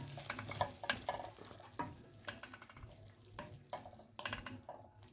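Beef curry with a whole Scotch bonnet cooking in a pot in a prison cell, faint bubbling and sizzling with irregular stirring clatters, close and quiet.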